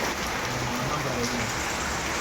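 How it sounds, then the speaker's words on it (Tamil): Heavy rain pours down steadily, a dense, continuous hiss of downpour that stays loud and even throughout. "எப்படி மழை கொட்டோன்னு கொட்டுது."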